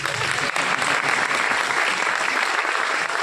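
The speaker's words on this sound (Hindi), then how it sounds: "ताली बजा सकते हैं" Loud, dense audience applause at a business motivational event, a sustained roar of many hands clapping close and continuous for a few seconds.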